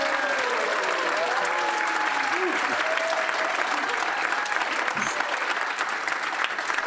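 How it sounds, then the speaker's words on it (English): A venue audience in Manchester claps steadily and densely, a sustained wash of applause that stays even throughout, with faint voices mixed in. "Big round of applause for the venue, everyone"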